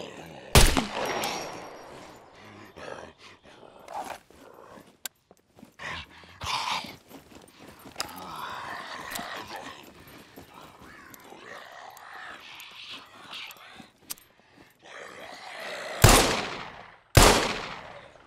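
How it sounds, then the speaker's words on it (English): Handgun shots in the survival game Scum: several sharp, crisp reports ring out at irregular intervals, some close together and others spaced seconds apart, with quieter shuffling and brief murmurs filling the gaps. "so that was about 4 shots"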